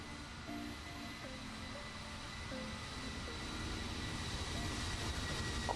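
A Fenix A320 airliner in Microsoft Flight Simulator rolls out after touchdown with a steady, broad engine and rolling roar that swells slightly toward the end, with no talk.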